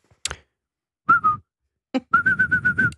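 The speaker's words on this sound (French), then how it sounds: "Alors ça c'est la musique de 30 millions d'amis" Whistled opening of the 30 Millions d'Amis TV theme, a short tune of a few sustained steady notes, then a run of quick repeated notes, with breathy pauses between phrases, close and clear.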